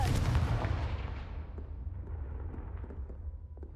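A fiery Confringo spell blast in the Hogwarts Legacy video game, a loud booming explosion that rumbles and fades over a few seconds.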